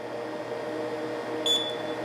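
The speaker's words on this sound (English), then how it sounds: "hold the button that you want to make pizza for about 5 seconds and you'll hear a beep" A short high electronic beep from a microwave oven's pizza button, a couple of quick tones, rises over a steady low appliance hum.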